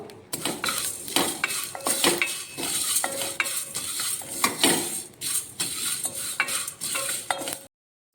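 Roasted cumin, curry leaves and other pulihora masala ingredients stirred and scraped in a pan on the stove, continuous clattering utensil scrapes with a light sizzle underneath.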